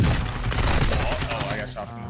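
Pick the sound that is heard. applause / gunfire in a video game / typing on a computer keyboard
gunfire in a video game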